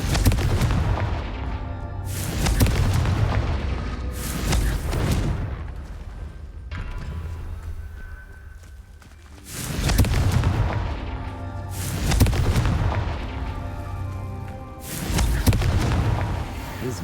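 Confringo spell blasts in Hogwarts Legacy, a run of heavy booming explosions fired in rapid bursts with short pauses between, loud and close, then another cluster of blasts.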